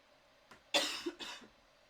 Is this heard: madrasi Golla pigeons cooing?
no